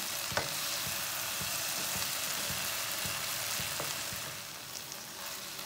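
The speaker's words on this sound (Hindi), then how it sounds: "इसे 2 मिनट के लिए अच्छी तरह भून लेते हैं।" Okra sizzles steadily as it fries in a pan for a village-style bhindi dish, a continuous crackling hiss with a few faint knocks of stirring, with no voices.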